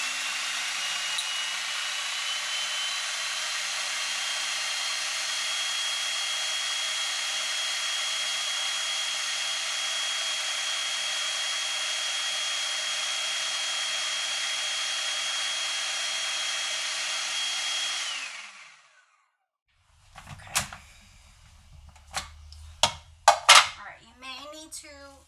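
A food processor whirs steadily and loudly for about eighteen seconds while blending pesto as olive oil is drizzled in, then winds down and stops, followed by clattering and scraping of the bowl.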